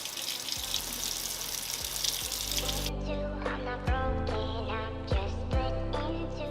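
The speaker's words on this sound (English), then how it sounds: "I'm gonna run some hot water on it just to kind of loosen up the glue underneath." Hot water runs from a tap over a glass jar to loosen label glue: a steady rushing stream for about three seconds, then softer splashing with several sharp clinks and knocks of the glass.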